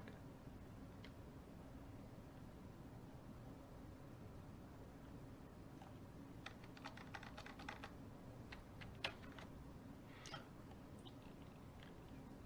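Quiet computer keyboard typing of a command: sparse single key taps early, then a denser run of clicks and clacks in the second half over a faint hiss.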